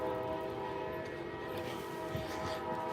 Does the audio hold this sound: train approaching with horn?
yes